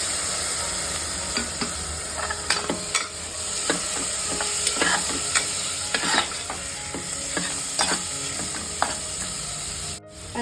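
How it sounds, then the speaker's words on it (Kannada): Crushed ginger, garlic and chopped tomato frying in a pan, a steady close sizzle with occasional stirring scrapes and taps, no voices. "ಈಗ ಒಂದು ಚಿಕ್ಕ ಟೊಮ್ಯಾಟೋನ ಕಟ್ ಮಾಡ್ಕೊಂಡು ಹಾಕ್ತಾ ಇದ್ದೀನಿ"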